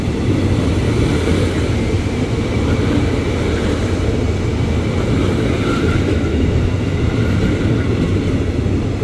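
A KRL Commuter Line electric train rumbles through Manggarai station on the upper level, a loud, steady low roar of wheels and motors lasting throughout with no voices.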